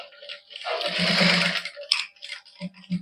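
A sewing machine stitches cotton suit fabric with plain cloth and lace, running in one steady burst of about a second before stopping, followed by a few soft handling clicks and thumps.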